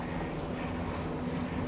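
Engines of a Wellcraft 38 T-Top motor boat, a 38-foot day boat, running underway on open water: a steady, continuous low drone mixed with wind rush and water noise, no voices.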